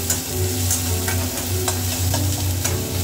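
Spices with ginger paste frying in a pan for a Bengali pabda fish curry, a steady close sizzle with scraping stir strokes and a low hum underneath, no talking.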